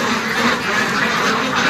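Pure French ducks, medium-sized, quacking on a farm ground, a dense, loud chorus of overlapping quacks with no pause throughout.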